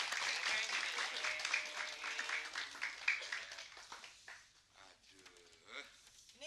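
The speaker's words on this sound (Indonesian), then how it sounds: "Tepuk tangan meriah." Studio audience applauding quiz participants on an Indonesian comedy game show, a dense bright wash of clapping that starts full, thins and fades, then swells briefly again near the end.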